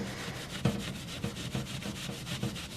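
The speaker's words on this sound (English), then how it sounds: "I like to just dip the Brillo pad in to start with, and then you just start rubbing back and forth" A Brillo pad scrubbing back and forth in sink water while polishing internals makes close, soft rhythmic rasping strokes, about two per second and steady in pace, with no voices.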